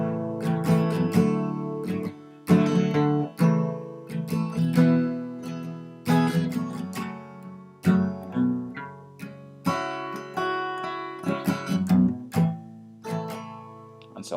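Capo-fitted guitar strumming a song's intro chord progression, starting on a G-shape chord, with repeated rhythmic strums and ringing chords, close and alone.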